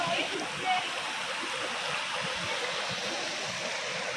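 A cold mountain stream in the Darjeeling hills rushes steadily, a dense, even broadband roar of flowing water heard up close and continuously throughout.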